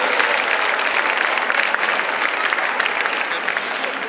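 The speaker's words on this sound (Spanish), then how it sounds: "dale un aplauso bien fuerte" Loud, dense audience applause at an elderly-care congress, sustained strong clapping from a large crowd that holds at an even level throughout without a break.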